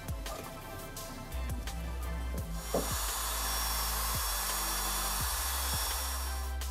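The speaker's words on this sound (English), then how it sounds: "Now compress in brake piston. To do that you can use inexpensive tool," A special inexpensive tool pushes back the front brake caliper piston on a Vauxhall/Opel Astra J or Insignia, giving a steady mechanical whir with scattered metallic clicks and taps, moderately loud and without speech.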